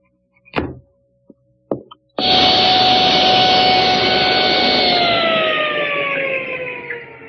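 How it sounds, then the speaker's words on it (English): A few sharp knocks come first, then a table saw with its blade tilted to 45 degrees spins up into a loud, steady whine that holds for several seconds and slowly drops in pitch as it runs down, with no voices. "I've tipped the saw to 45 degrees, raised the blade so it's going to come just shy of that line"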